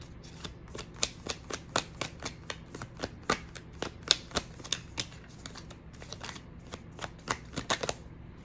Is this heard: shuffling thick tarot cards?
yes